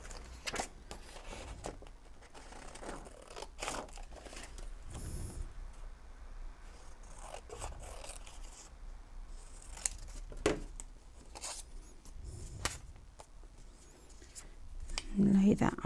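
Scissors snip through a paper piece for a junk journal, with soft, irregular cuts and paper rustling close by under a quiet speaking voice.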